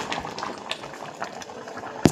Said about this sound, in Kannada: ಸಾಂಬಾರು ಚೆನ್ನಾಗಿ ಕುದಿ ಬರ್ತಾ ಇದೆ